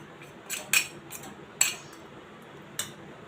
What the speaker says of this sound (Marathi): आता हे चांगलं पसरवून घेऊया आपण याच्यावर